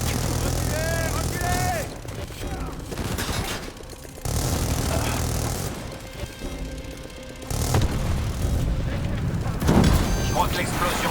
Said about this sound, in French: l'explosion IEM du générateur a grillé ton drone